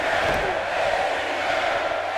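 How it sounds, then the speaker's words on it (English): A large video game wrestling arena crowd in WWE 2K18 roars and chants steadily, a dense wash of many voices holding at a constant loud level. "You hear the crowd here in Portland chanting for Shawn Michaels."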